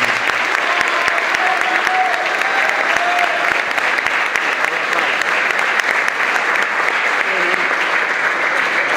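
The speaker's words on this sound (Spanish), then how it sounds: "les pido un aplauso para todos." A crowd at a football club's presentation of its new shirt and squad applauds without a break. The dense, loud clapping holds steady for several seconds, with faint voices underneath.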